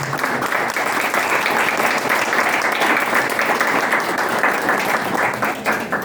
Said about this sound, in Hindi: जोरदार तालियों से सरकार अभिवादन करें।